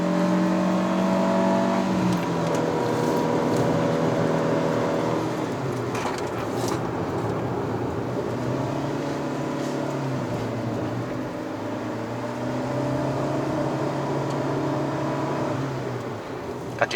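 A 2022 Proton Persona 1.6 CVT engine drones steadily while climbing a steep road on the Genting run, holding high revs for a sustained, loud stretch with harmonic whine shifting slightly over time.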